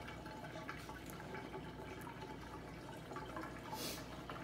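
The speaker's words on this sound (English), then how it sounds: "My dishwasher's on, so I'm sorry if you hear all that ruckus" A dishwasher running nearby gives off faint, steady sloshing and trickling water noise, with soft drips and a brief splash, set against a quiet room.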